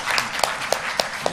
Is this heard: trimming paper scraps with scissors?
no